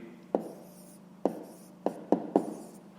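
A number is written by hand on paper for a fifth-grade maths exercise, five short, sharp pen taps with brief scratches at uneven intervals, close and quiet, with no voice.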